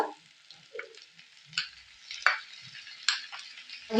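Ginger paste and chili paste are stirred in a pan. Soft, intermittent scrapes and brief bursts of sizzle come at an uneven rhythm over quiet gaps.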